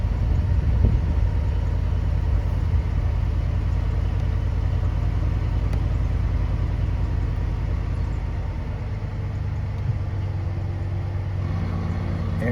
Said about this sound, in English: In a minute, you should hear the air compressor kick on.